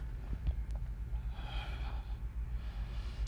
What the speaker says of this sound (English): In through the nose and breathing out through the nose.